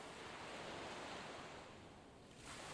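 Ocean surf rolls in and out as a soft, continuous wash of waves with slight swells in level. It is faint and distant, with a light breath of wind and no voices.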